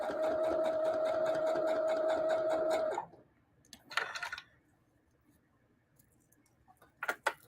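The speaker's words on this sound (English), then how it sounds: "I usually sew on the other side, but I'm sewing on this side of the needle so that you guys can see it." A sewing machine stitches a portrait art quilt in a fast, steady rhythmic run for about three seconds, then stops, followed by quiet handling noises and brief rustles of fabric.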